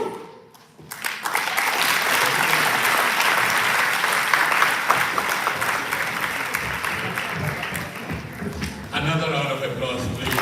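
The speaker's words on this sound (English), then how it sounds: "Another round of applause, please." Sustained applause from a seated audience at a commemoration for the World Day of Safety and Health at Work, loud and steady for several seconds after a brief pause, with a voice briefly heard.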